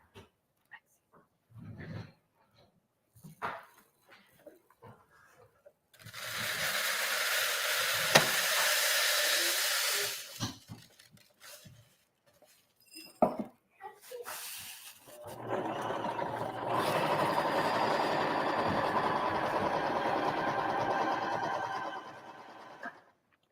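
A sewing machine stitches a fabric heater bag in two long steady whirring runs, separated by quiet pauses with small handling noises.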